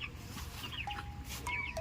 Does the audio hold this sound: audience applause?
no